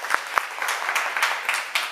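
An audience at a community cultural program in New York claps steadily for about two seconds, a dense, even patter of many hands at moderate volume.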